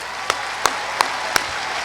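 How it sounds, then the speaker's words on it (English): Sparse applause from an audience at an Air Force Basic Military Training coin and retreat ceremony: four sharp, evenly spaced claps stand out over a steady, hissy wash of sound. "So let's give them a round of applause."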